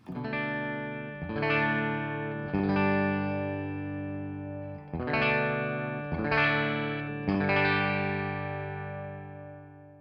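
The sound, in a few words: clean electric guitar tone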